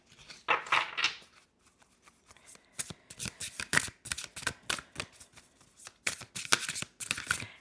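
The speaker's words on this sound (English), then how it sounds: "Let's grab a Wings of Empowerment card to close out your reading here today." Tarot cards are shuffled and drawn by hand, bursts of riffling and flicking card sounds in uneven clusters, close and fairly quiet with no one talking.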